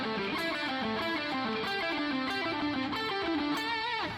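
Distorted electric guitar runs through quick descending four-note groups that climb step by step up a pentatonic scale, a steady cascading stream of notes, loud and alone, ending on a bent note.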